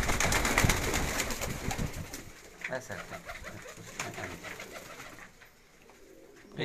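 Cooing of a kamgar pigeon at a breeder's home, low soft coos repeating through a dense, busy wash of background noise and other birds, with some talk present.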